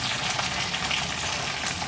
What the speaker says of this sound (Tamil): நல்லா வெங்காயம் வந்து பொன்னிறமாக பொரிஞ்சு வரட்டும்.